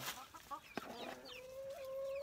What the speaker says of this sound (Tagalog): Pakpakain muna ako ng aking mga alagang manok